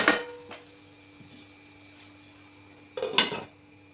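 A lid clatters onto a pot of fish curry with ginger-garlic paste, a loud metallic clank near the end after a couple of softer utensil knocks earlier, in an otherwise quiet kitchen.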